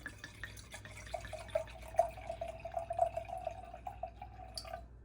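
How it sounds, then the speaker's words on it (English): A drink pours into a glass in a soft, close trickle with faint gurgling and dripping, steady for several seconds, quiet and without voices. "So let's pour it on up."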